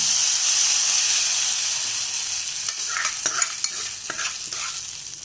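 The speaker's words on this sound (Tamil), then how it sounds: "இப்போ வடகத்தை தாளித்து கீரையில் சேர்த்துக்கலாம்." Vadagam crackles in hot oil for a tempering over spinach moong dal, a loud steady hiss of frying that gives way to scattered scraping stirs and sputters near the end.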